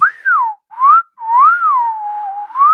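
A human voice whistles in imitation of the Clangers, the knitted puppet creatures, producing a loud, close, wavering melodic line that slides up and down in pitch with two short breaks between phrases.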